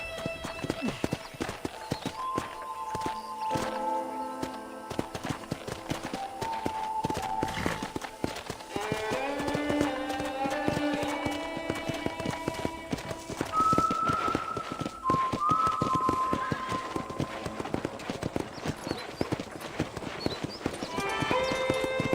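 Horse hooves clip-clop at a steady gallop in the Western video game Red Dead Redemption, a continuous rhythmic beat heard under character dialogue and game music.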